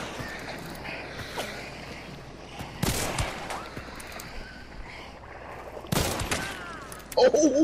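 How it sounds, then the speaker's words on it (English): Gunshots in the video game Hunt: Showdown, two loud sharp cracks a few seconds apart amid quieter shuffling and distant activity, with another burst of noise at the end. "she's shooting right by you"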